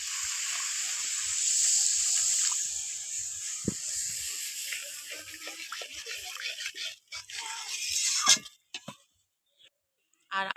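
Water hits a sizzling, well-fried masala for egg curry, a loud bright hiss that surges and then gradually settles into softer bubbling with stirring clinks.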